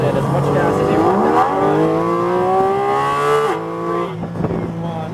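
Porsche GT4 RS accelerating on a race track, engine climbing through the revs with a quick upshift, loud and close from inside the car, then easing off, with an instructor talking over it.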